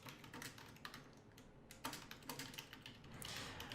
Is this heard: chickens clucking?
no